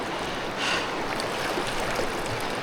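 Cold, fast-flowing river water rushes around during a crossing on an old road to Sarajevo in the Balkans, a constant broad roar up close with no voices.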